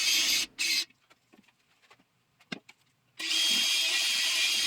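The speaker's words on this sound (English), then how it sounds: "I'm using a brake cylinder hone to clean up the bores" A drill-driven brake cylinder hone cleaning paint from the bores of a Shopsmith base: loud, steady whirring at the start and again for the last second and a half, with a quiet stretch of faint clicks and one sharp knock between.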